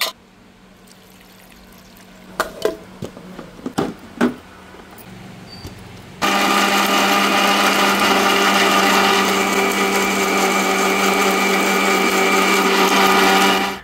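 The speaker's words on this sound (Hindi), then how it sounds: "हरा मसाला पीस के मैंने साइड में रख दिया है" An electric kitchen blender grinds green masala of coconut, ginger, garlic, black pepper, green chilies and tomato, starting abruptly after a few scattered clinks and then whirring loudly and steadily for several seconds.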